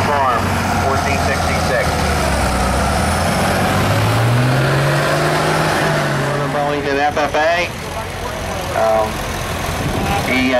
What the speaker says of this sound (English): Tractor's hooked up, ready to go.